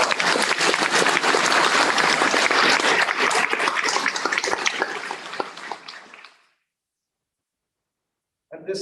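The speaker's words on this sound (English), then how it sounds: "Let's give our choir a wonderful round of applause." An audience applauding a choir at a high school graduation ceremony: loud, dense clapping from a large crowd that fades out and stops, followed by silence and a brief noise at the end.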